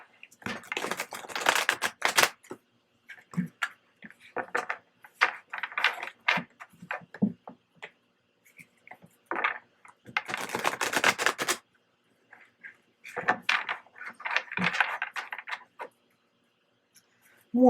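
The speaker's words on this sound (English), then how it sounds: "One more shuffle." Tarot cards are shuffled in repeated short riffling bursts, crisp and close, separated by quiet pauses.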